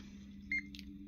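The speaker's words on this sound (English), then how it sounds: "Our meter starts beeping and complaining that there's no current." Electrical meter with no current flowing, giving a single short, faint electronic beep followed by a brief second chirp over a low steady hum.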